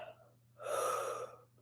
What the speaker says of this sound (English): As you breathe in through your nose and out through your mouth,